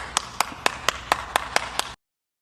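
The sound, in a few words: clapping heard through a phone mic app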